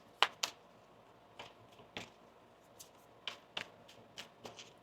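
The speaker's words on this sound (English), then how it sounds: "One more shuffle here." Quiet card shuffling, with a series of brief crisp riffles and flicks spaced irregularly and close by, no talking.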